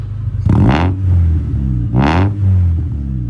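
Honda Civic engine with an open Spoon muffler revving twice: two sharp, close throttle blips rising and falling over a loud idling rumble.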